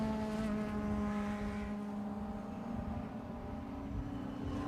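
Race cars at the Anglesey circuit, a Lotus Elise passing a BMW on the banking, with a steady droning engine note that holds at a similar pitch, fairly close and unbroken, with no talk.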